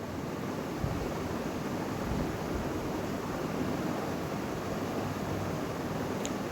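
Water splashed into spice paste frying in a pan for a Bengali fish curry sets off a steady, broad hiss of sizzling that runs unbroken and fairly loud from start to finish.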